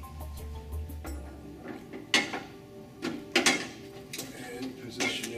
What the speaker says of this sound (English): Tighten up the nut